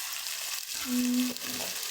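A spoon stirs chicken curry in a pan, with soft scraping and a low sizzle over a couple of seconds and a short tonal squeak in the middle.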